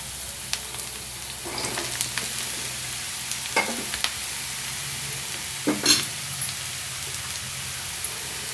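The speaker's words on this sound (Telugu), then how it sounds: "ఇప్పుడు దీనిలో బీరకాయ ముక్కలు వేసుకుందాం" Ridge gourd pieces hiss and sizzle as they drop into onions and curry leaves frying in hot oil, a steady crackling bed broken by a few louder spatters and stirring clinks, with no voices.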